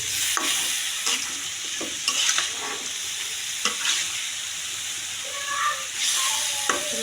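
Chicken bhuna stirred in a pan, with repeated spatula scrapes and clinks over a continuous sizzle, stirred somewhat irregularly, heard close and alone.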